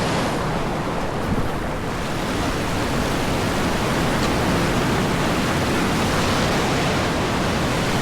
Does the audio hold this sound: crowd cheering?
no